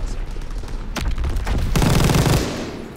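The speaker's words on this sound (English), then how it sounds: "I feel like the turret's mad rapid fire now" Rapid turret gunfire in Call of Duty: WWII, loud dense bursts of shots that swell into a heavy sustained volley before trailing off, with a faint voice underneath.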